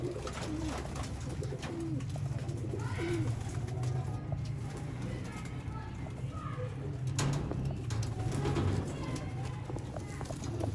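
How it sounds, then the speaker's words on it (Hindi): Golden pigeons coo in low, steady, overlapping murmurs close by, a continuous throaty burble with faint background noise throughout. "ये गोल्डन कबूतर दिखाएं दोस्तों"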